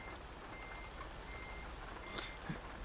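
A truck's reversing alarm in American Truck Simulator beeps steadily in a repeating rhythm, faint to moderate, over a constant low engine rumble and ambient hiss.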